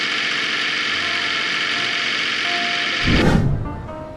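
A sailboat's diesel engine runs smoothly at a steady, close idle with an even humming drone, broken near the end by a short louder rumbling surge.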